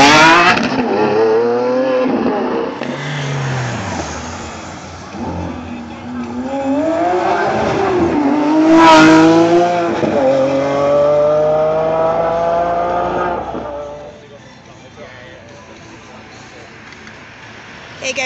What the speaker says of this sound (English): just getting ready to rumble, is a revving Aventador SVGA.